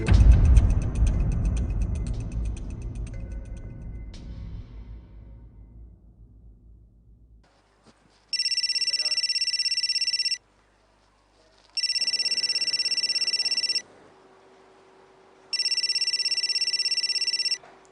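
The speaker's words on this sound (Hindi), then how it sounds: "फोन आ रहा है तुम्हारा।" A mobile phone rings with an incoming call in three loud, evenly spaced electronic bursts, each about two seconds long, after a stretch of fading background rumble.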